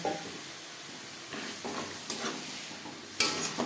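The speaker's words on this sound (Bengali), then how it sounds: "মশলা কষাবার সুবিধার জন্য দিয়ে দেবো মশলা ধোয়া জল" Spice-washing water is added to masala frying in a pan, producing a soft continuous sizzle with scraping stir strokes and a sharper hiss burst near the end, fairly quiet and without talk.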